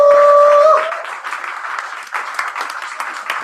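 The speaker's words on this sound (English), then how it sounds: "I'd like to give a round of applause to all the poets." After a brief tonal feedback-like whine fades, an open mic poetry audience breaks into scattered applause, a small crowd clapping unevenly and moderately loud for the remaining seconds.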